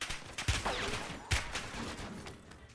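Gunfire in the Warzone video game: two sharp, loud shots ring out about a second apart, each cracking hard before a lingering echoing tail, with scattered quieter shots and ambient battle noise between them.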